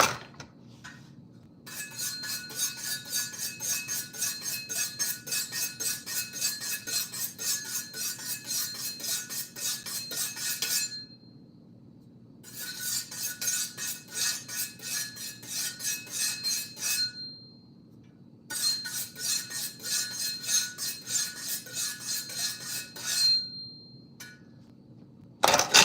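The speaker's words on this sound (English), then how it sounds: "Let me sharpen my knife." A dull kitchen knife is sharpened with fast, steady rasping strokes that run in three long stretches separated by short pauses, close and fairly quiet.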